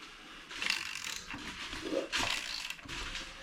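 A hand ratchet turns over an LS3 engine, giving bursts of clicking and mechanical rattling, close and moderately loud, with brief pauses between strokes.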